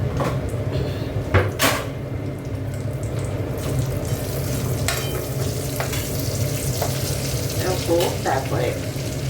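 Nigella seeds and black mustard seeds sizzle in hot oil for dal, a continuous close crackle with a few sharp knocks and clatters near the start.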